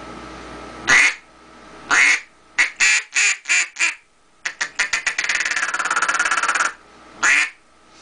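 A Duck Commander Green Mile duck call blows loud quacks, first single and spaced, then a fast rolling series of short quacks, ending with one more long quack.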